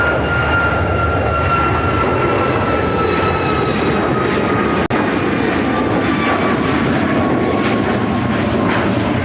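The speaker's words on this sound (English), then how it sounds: "This is United Airlines Airline's 2668 taking off to Tampa, Florida on the MAX 8." A United Airlines Boeing 737 MAX 8 takes off from Chicago O'Hare, its engines giving a loud, steady roar with a whining tone that slowly shifts as the jet climbs, broken by one sharp click midway.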